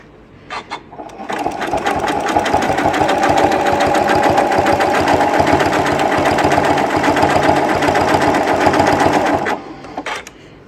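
Close, loud sewing machine running a triple zigzag stitch along quilt binding, with a few clicks at the start, then a steady rapid whir for about eight seconds before stopping.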